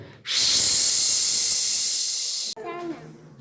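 A voice imitates pizza sizzling while frying with a long, loud, steady hissing breath that cuts off abruptly, followed by a brief spoken word.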